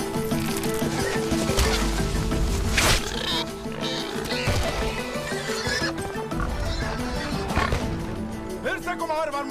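Horse neighing with clip-clop hooves over loud layered music and battle-like ambience from a game, the whinny rising clearly mid-clip amid continuous dense sound.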